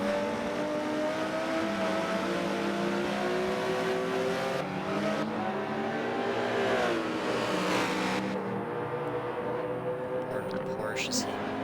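Porsche race car rounding a left-hander up the hill at Laguna Seca during a Michelin Pilot Challenge race, engine note rising and falling as another car follows close behind, under continuous commentary.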